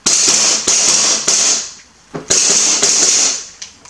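A Novritsch SSP-1 airsoft pistol dry-firing during a function check: about five sharp, loud snapping shots, each followed by a hissy ring-out, spaced unevenly in close succession at close range.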